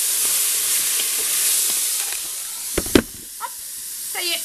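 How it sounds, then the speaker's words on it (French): Turkey pieces for a Spanish-style dish are stirred and browned in a pan, a steady hissing sizzle that fades toward the end, broken by a few clattering knocks of the spoon against the pan, close by. "Je vais mélanger tout ça et continuer à faire dorer un petit peu."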